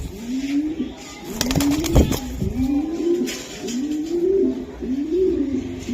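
Racing pigeons in a loft coo repeatedly in close, rhythmic rolling calls, with a brief flutter and clatter near the start and a faint background hum.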